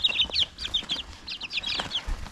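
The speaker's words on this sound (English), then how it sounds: "Ursula right there, the blue one, which is a Green Queen Bantam." Belgian d'Uccle bantam chickens cluck close by in quick, high, chattering bursts that repeat throughout, with no voices.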